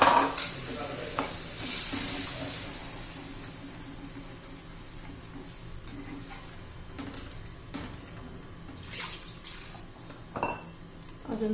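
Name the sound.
water poured into frying masala, sizzling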